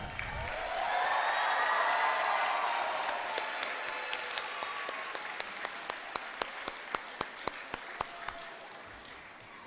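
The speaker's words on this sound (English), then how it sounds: "So a big round of applause for Team Candor." An audience at a primary school production applauds in a sustained wash of clapping that swells, then thins into a few louder individual claps near the end, with faint crowd murmur beneath.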